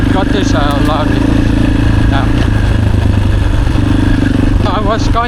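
A mid-size motorcycle engine runs steadily throughout, a loud close rumble with some clatter, while someone talks over it.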